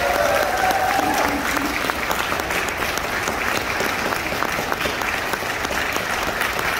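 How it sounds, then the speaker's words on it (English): An audience at a Broadway-themed talent night gives a sustained round of applause, dense clapping filling the room steadily for several seconds, with faint crowd voices mixed in. "give them a huge round of applause"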